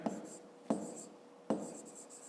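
Pen writing numbers on paper during a fifth-grade maths exercise converting decimetres to centimetres, three quick scratchy strokes each followed by a short trailing scribble, close and fairly quiet with no talk.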